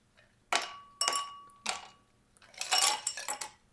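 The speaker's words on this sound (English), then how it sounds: "So I'm going to put a little bit of ice in the glass." Ice cubes drop into a glass as a few separate clinks, then a quicker cluster of rattling knocks near the end, close and fairly quiet in a home kitchen.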